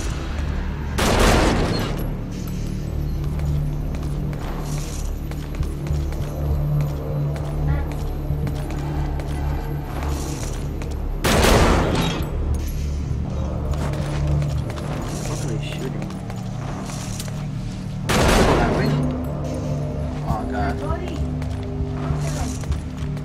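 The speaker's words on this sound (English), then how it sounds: "Shooting." Gunfire in Metal Gear Solid V: The Phantom Pain, heard as three heavy broadband bursts spaced several seconds apart over a constant game rumble, with talk running through.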